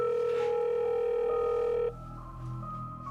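A steady telephone dial tone holds loud and even before cutting off abruptly, giving way to a lower background hum with faint tonal traces.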